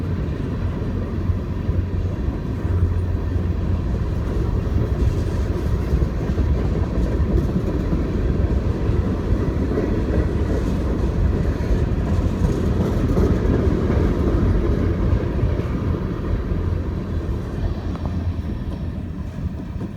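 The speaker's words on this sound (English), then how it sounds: "q317-17. Westbound mixed freight train" A CSX Q317-17 westbound mixed freight train rolls steadily past, its heavy low rumble and wheel noise holding loud and unbroken throughout with no horn or voices.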